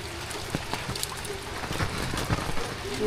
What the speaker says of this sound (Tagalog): Umuulan umaga.